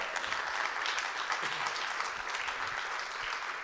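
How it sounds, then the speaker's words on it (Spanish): A church congregation at a retreat claps in a steady, dense wave of applause with a few scattered cheers, filling the whole moment without speech. "En el nombre de Jesús, denle un aplauso al Rey"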